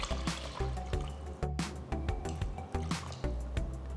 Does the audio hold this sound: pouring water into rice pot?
yes